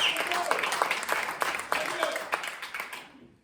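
Audience claps for a singer at a private concert in Wichita, Kansas, a small room's worth of applause fading out over a few seconds.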